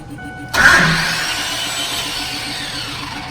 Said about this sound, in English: the starter still makes noise